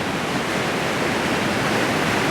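Muddy flash-flood water roaring through a small culvert, a loud, dense, unbroken rush heard up close with no voices.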